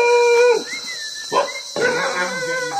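Dogs howl and bark nearby on Koh Samui, a drawn-out howl followed by short barks and whimpering cries, fairly loud against a steady high hiss.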